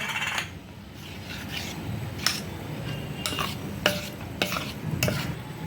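Cornflour being stirred into an orange halwa mixture in a pan, a soft continuous scraping and rubbing with a few sharper clicks of the spoon against the vessel, close and fairly quiet, no talk.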